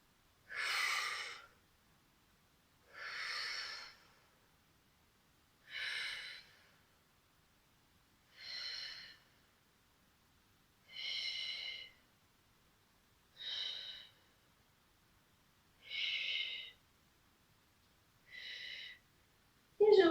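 Steady breathing during a glute-strengthening exercise session, eight slow airy breaths spaced evenly about every two and a half seconds, close and soft with no talking over them.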